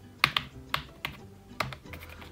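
Keys clack on an iPad Pro keyboard in a quick, uneven run of sharp taps, close and clear against a quiet room, with no voices.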